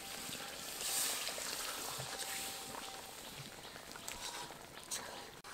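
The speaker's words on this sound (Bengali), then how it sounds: "এবারে এই চিকেনগুলোকে কিছুক্ষণ এই গ্রেভির মধ্যে ফুটিয়ে নেব" Chicken pieces simmer in a thin gravy for chicken chaap, a faint, steady bubbling with soft patters and pops throughout.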